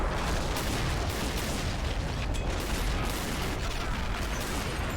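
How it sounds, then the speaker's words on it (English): An artillery barrage in the Men of War video game keeps up a dense, loud roar of overlapping explosions and booms. The rumbling fire never lets up and stays close throughout. "Call in artillery on coordinates"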